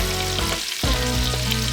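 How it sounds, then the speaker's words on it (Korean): Squid and vegetable batter with carrot, scallion and perilla leaf deep-frying in hot oil, a loud, dense, continuous crackling sizzle heard close up. "기름을 적당한 온도로 가열한 후 튀김 반죽을 노릇노릇한 색깔이 나올 때까지 튀겨줍니다."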